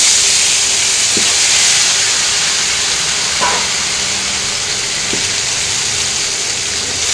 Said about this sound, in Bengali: আলুগুলো একটু লাল লাল করে ভেজে নিই।